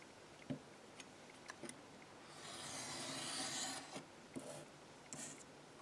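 Card stock is trimmed on a cutting mat for a 3D decoupage card project, a faint scraping rasp of a blade drawn along the card between soft taps and clicks, quiet and close.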